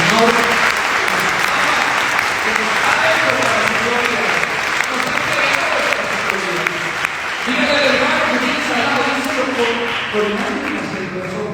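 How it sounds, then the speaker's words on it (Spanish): A Catholic congregation at a homily gives loud, sustained applause, many hands clapping in a thick continuous roar close by, with voices and cheering mixed underneath throughout. "Denle un fuerte aplauso al Señor"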